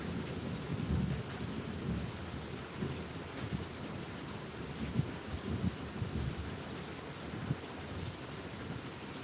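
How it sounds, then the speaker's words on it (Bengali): Heavy rain pours steadily with low rumbling thunder rolling underneath, a dense continuous roar mixed with wind buffeting the microphone, with no voices. "অনেক বৃষ্টি হচ্ছে অনেক বৃষ্টি মেঘও ডাকছে তোমরা শুনতে পাবে মেঘও ডাকছে"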